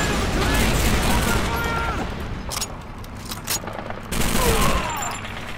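Continuous heavy gunfire and battle noise in Call of Duty 2 as barrels are shot, a dense roar with sharp cracks and a renewed loud burst near the end, voices speaking underneath.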